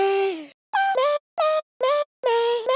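Short, pitched vocal fragments sing in choppy bursts separated by silences, each chop sliding or stepping in pitch, sounding sour and off-key.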